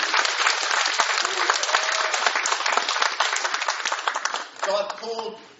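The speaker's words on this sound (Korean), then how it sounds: "큰 박수 올려드립니다." A church congregation at a Sunday family worship service breaks into loud, sustained applause that fills the room, thinning out near the end as a voice begins speaking over it.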